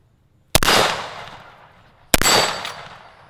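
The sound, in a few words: rifle shot at a shooting range, Falkor Defense .223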